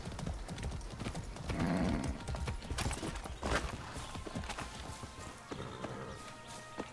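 Horse hooves clip-clop steadily in Far Cry 6, a close, continuous trotting rhythm with some rustle and a faint whinny-like note, no voices.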